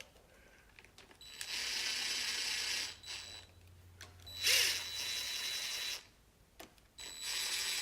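A ratchet tightens the front cover bolts on a 1972 Chevy C10 engine. Close, rapid clicking comes in several sustained runs, separated by brief pauses.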